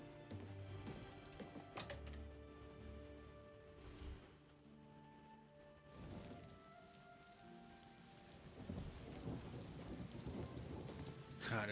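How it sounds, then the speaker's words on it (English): Rain in the video game Oblivion Remastered patters softly and steadily with low rumbles of thunder, layered under faint game music tones. "it's raining in game and it's raining in real life"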